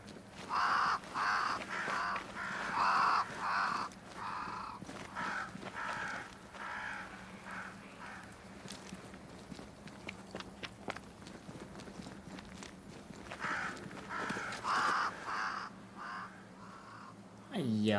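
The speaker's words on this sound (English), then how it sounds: "Crows. They flock to that great tree up there." Crows caw repeatedly in the video game Banishers: Ghosts of New Eden, harsh calls arriving in bursts near the start and again toward the end, with footsteps and a low ambient hum beneath.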